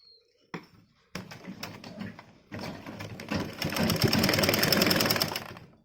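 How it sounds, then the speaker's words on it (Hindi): A sewing machine stitches fabric along piping for a top, starting with a few separate taps and short bursts before settling into a steady, loud, close mechanical whir. "अब एक एक सिलाई हमें यहाँ लगानी है ताकि ये अंदर का कपड़ा छुप जाए।"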